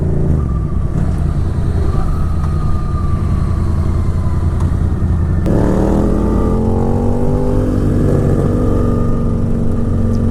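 A Kawasaki Vulcan 900 motorcycle engine runs loud and close, climbing and dropping in pitch as it shifts up through its five-speed gearbox, with a sharp rise near the middle of the pass.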